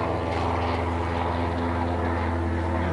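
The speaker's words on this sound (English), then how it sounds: "Oh no, the helicopter." A Robinson helicopter passes overhead, its engine and rotors making a steady, loud, droning hum with a throbbing low pulse that holds evenly throughout.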